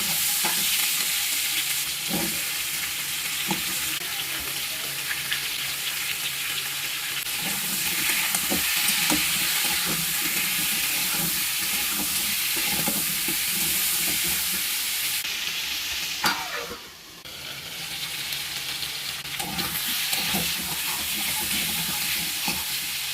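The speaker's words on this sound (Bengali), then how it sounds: "ডুবো ডুবো করে কেটে রাখা আলু আর কুমড়োর টুকরোগুলো। তারপর পরিমাণ মতো নুন আর হলুদ দিয়ে ভেজে" Potato and pumpkin pieces fry in a pan with salt and turmeric, a loud, steady sizzle and hiss close by, broken by brief stirring scrapes and a short dip near the end.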